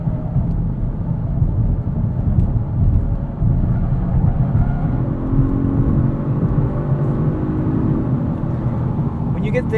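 A 2022 Genesis G70 3.3T AWD driving with a steady low engine and road rumble inside the cabin, a rising harmonic drone in the middle as it pulls, under intermittent talking.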